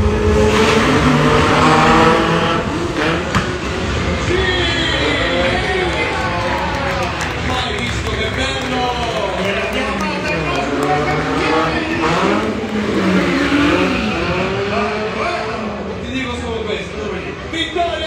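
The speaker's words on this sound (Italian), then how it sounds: "Riscaldate i motori" Several stunt car engines rev and roar together with whining pitch sweeps at a stunt show at Mirabilandia amusement park, over an excited announcer's voice and crowd noise.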